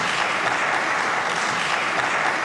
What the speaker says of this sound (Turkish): O sözler meclis salonunda hem HDP'liler hem de CHP'liler tarafından büyük alkış